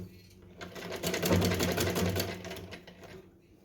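A sewing machine stitches along a folded seam on a small Janmashtami dress for a Laddu Gopal idol, one short continuous run that swells and fades, close and fairly loud.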